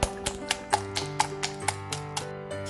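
Eggs, salt, black pepper and milk whisked in a bowl for scrambled eggs, giving a steady series of light, close taps and clicks of a utensil against the bowl over soft background music.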